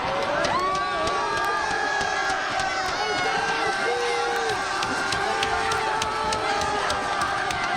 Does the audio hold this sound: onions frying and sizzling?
no